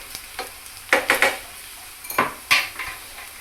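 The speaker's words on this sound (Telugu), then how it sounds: "ఆనియన్స్ అయితే గోల్డెన్ బ్రౌన్ కలర్ వరకు ఫ్రై అయిపోయినాయి." Onions fry to golden brown in a pan for boondi curry. A spoon scrapes and knocks against the pan in several distinct strokes over a soft background sizzle.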